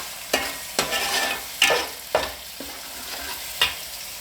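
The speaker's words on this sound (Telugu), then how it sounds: "ఒక 2 minutes ఫ్రై చేద్దామండి." Ginger garlic paste frying in a pan for a fish curry, a steady close sizzle broken by several sharp scraping stirs at irregular intervals, with no voices.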